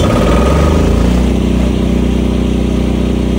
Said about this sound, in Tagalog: Dapat mabuhay yung ating generator.